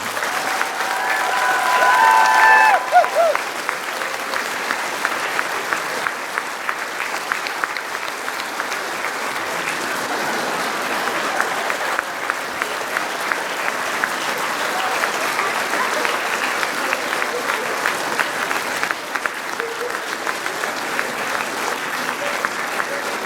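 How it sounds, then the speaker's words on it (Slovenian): Audience applause at a folk concert in Borovnica, a dense, even crowd clapping that carries on for over twenty seconds, slightly louder at the start. "Mislim, da si Matic zasluži en velik aplavz."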